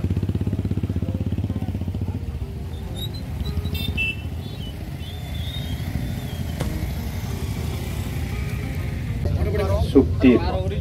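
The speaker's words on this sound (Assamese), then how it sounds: "শান্তি সমদল বাইক ৰেলী" Many motorcycles ride in a peace bike rally in Tamulpur, producing a steady, loud engine rumble throughout, with brief horn-like beeps and extra engine noise near the end.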